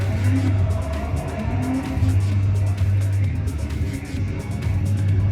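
A car engine drones steadily with a revving whine as the car drifts around a parked car, tires squealing faintly in a continuous drift, loud and close throughout.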